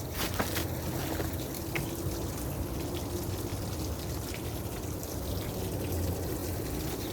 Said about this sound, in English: oh, look, a little waterfall.